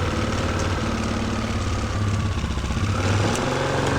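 A 1997 Polaris Sportsman 500 ATV engine runs at a steady idle, its low chugging drone close and loud with a slight rattle from the taken-apart frame throughout, and no talking.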